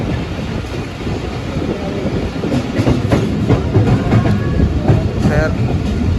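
The 46DN Pakistan Express passenger train rolls along the rails between Faisalabad and Karachi, a loud, continuous rumble with rhythmic wheel clatter and some wind buffeting close to the microphone.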